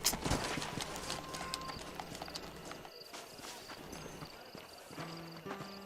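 Galloping horse hooves from the video game Red Dead Redemption beat in a steady clip-clop rhythm, moderately loud and close, with game voices talking briefly in the background.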